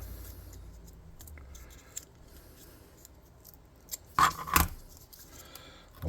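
Scissors cutting a small notch into each side of a piece for a tabletop-game terrain model: a couple of brief, close snips amid quiet handling noises, with no talking.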